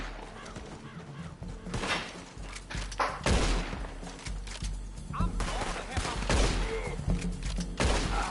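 Gunfire in the Red Dead Redemption 2 online game, repeated shots scattered through a dense, busy mix of game noise with a voice talking over it.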